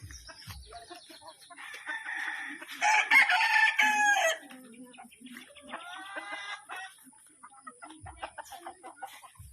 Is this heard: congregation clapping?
no